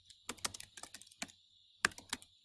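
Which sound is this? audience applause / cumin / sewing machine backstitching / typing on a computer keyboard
typing on a computer keyboard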